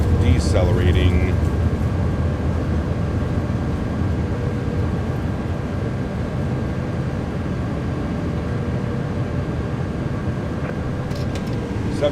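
Airbus A330 thrust reversers deploy on landing in Microsoft Flight Simulator 2024, producing a loud, steady, broad roar that holds evenly through the whole stretch.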